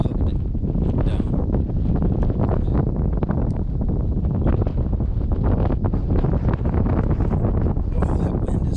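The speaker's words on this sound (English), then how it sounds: "Oh, that wind is non-stop." Strong wind blows steadily across a frozen lake during ice fishing, a loud, constant roar and buffeting that never lets up for the whole stretch.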